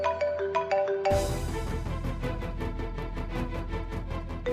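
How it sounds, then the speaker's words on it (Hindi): Phone ringtone in a Hindi TV serial scene: a short tonal chime up front, then loud, dense dramatic music swells in and dominates the rest. "कबाड़िया का फोन इस वक्त"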